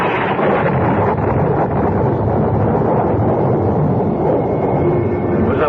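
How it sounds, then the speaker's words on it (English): Thunder sound effect in a radio play: a continuous, loud, roaring rumble of storm noise that sustains throughout without pause. "It was a belt of thunder like the crack of doom."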